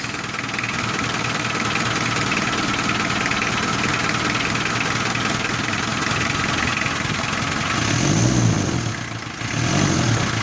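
A 4D56 diesel engine runs at a steady, rough idle nearby, then gives two short revs near the end, with a brief dip in between.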